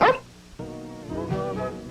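A dog in a 1981 Kibbles and Bits dog food commercial gives a sharp bark up close, then yips and whimpers briefly, set against a background music jingle.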